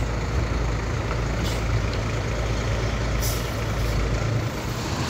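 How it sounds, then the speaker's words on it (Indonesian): A Sinar Jaya intercity bus with a 42 RB body rolls in at close range, its engine a loud, steady rumble with short hissing bursts of air brakes released along the way. "Lanjut lagi masuk bus Sinar Jaya, kali ini bodi 42 RB yang masuk."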